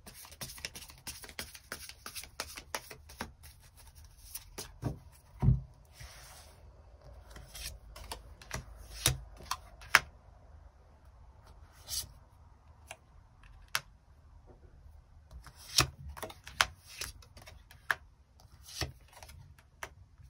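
Tarot cards being shuffled and drawn, heard as a quiet run of soft clicks, flicks and brushing card sounds with a few sharper taps, close and alone without talk.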